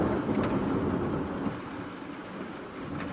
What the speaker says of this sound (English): Lightning flashed as the storm closed in.